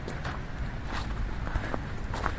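Close footsteps crunch on dry, loosely packed fresh snow in a German town, a quiet, even walking rhythm of soft compressing crunches.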